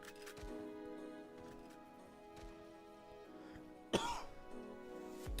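A single sharp cough bursts out near the mic partway through, over a steady backdrop of video game music and sound effects.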